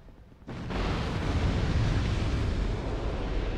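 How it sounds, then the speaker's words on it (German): A hut blowing up in Dark Souls 2 sets off a sudden loud, deep roaring burst that holds as a sustained rumbling blast after a quiet lead-in. "Einmal die Hütte explodieren lassen, bitte."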